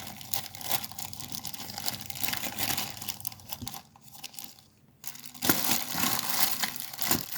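A plastic bag holding little pink and clear art glass beads is opened with continuous close crinkling and rustling, dipping into a brief quieter lull midway before loud crackling resumes, with no voices.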